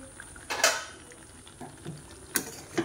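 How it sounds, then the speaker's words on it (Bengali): Mutton being stir-fried in a pan for kasha, with a metal spatula scraping and clinking against the pan in a few scattered strokes over a low background, fairly quiet and with no talking. "এই যে আমার মাটন কষা হচ্ছে"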